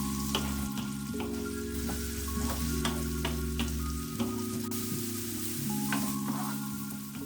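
Chopped onions sizzle steadily in a pan for a spicy Sri Lankan style chicken bun filling and are stirred now and then. The frying stays constant and fairly quiet, with faint tonal sounds in the background.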